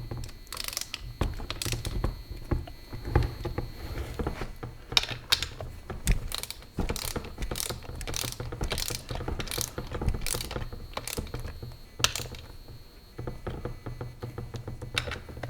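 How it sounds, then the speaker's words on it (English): Torque wrench ratcheting down transmission bolts on a Jeep T176 four-speed gearbox, giving repeated crisp close-up clicking runs broken by short pauses as each bolt is tightened. "Now I'm going to torque these bolts down to 15 to 18 foot-pounds."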